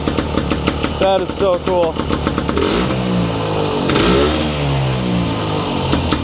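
A 1946 Husqvarna Model 24 motorcycle with a 118cc two-stroke engine runs close by, its buzzing idle rising into revs partway through, while a person speaks briefly over it.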